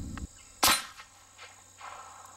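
A single sharp gunshot from an M1 carbine firing an 85 grain Lehigh Defense Xtreme Cavitator round cracks loudly near the start, then quickly fades into faint outdoor ambience.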